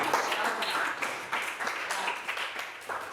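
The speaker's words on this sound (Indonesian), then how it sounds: "Iya, tepuk tangan." Scattered classroom applause from students during a lesson, a short burst of uneven clapping of moderate loudness, close by.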